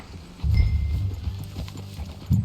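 Horse hooves clip-clop in a steady trot in Red Dead Redemption 2 gameplay, with heavier thumps near the start and again at the end, close by and fairly loud.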